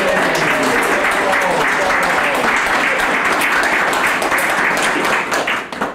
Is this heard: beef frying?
no